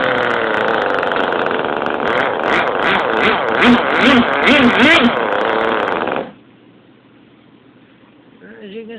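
Jetstream 1000 glow-fuel model engine fired with a glow warmer, running loud and steady with a buzzing, fluctuating tone for about six seconds before cutting off abruptly, leaving faint background noise.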